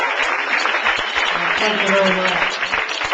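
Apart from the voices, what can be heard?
comedy club audience applause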